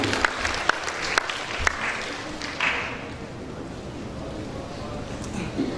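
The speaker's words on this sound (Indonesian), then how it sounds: "Kita berikan aplaus sekali lagi kepada siswa mahasiswa" An audience at a university graduation ceremony claps, a dense wash of applause with a few sharper claps at first, settling into a steady patter under a voice over the sound system.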